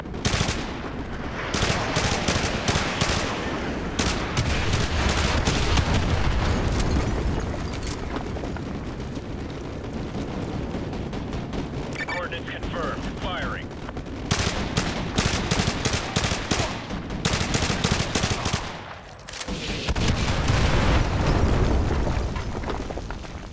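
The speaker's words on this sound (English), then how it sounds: "Fire mission received. Artillery inbound." Artillery strike and heavy gunfire in Call of Duty Modern Warfare 2 Remastered, loud sustained battle with rapid machine-gun bursts, booming explosions and rumbling impacts, briefly dropping off before the barrage resumes.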